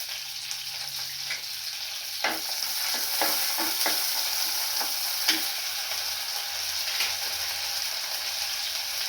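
Garlic and curry leaves fry in hot oil in a pan with a steady sizzling hiss, broken by several sharp stirring clicks and scrapes early on.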